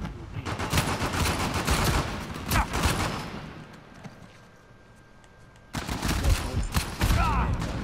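Gunfire in the video game Uncharted 4: A Thief's End comes in dense, rapid bursts of shots, loud and close, then drops to a brief lull before another sharp volley erupts.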